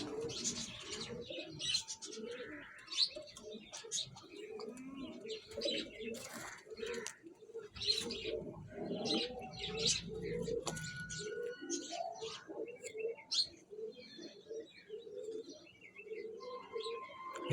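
Parwazi pigeons at a pigeon club coo repeatedly in soft, overlapping rounds, joined by scattered chirps from other birds and a brief flutter of wings, fairly close and without talk.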